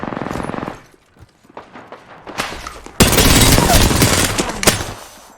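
Rapid gunfire in the shooter game Apex Legends, with a dense opening burst that drops away to sparse scattered shots, then a loud sustained volley of automatic fire from about three seconds on, with no talking.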